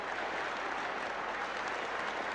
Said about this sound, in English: everybody here is standing up to give him a tremendous ovation as he comes back to the pavilion